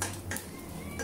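A spoon scrapes and clinks against a metal pan while mustard seeds, cumin and chana dal are stirred, a short burst of close, bright metallic rattling with no voices.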